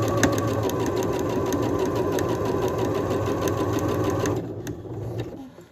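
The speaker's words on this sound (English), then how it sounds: "Okay, and then I'm going to sew all the way down the edge." A sewing machine stitches a seam along the edge of a fabric face mask with a rapid, steady mechanical whir and clatter, close and loud. It stops abruptly near the end, leaving a few faint handling clicks.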